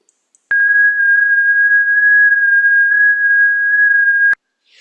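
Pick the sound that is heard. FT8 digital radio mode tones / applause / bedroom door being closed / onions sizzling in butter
FT8 digital radio mode tones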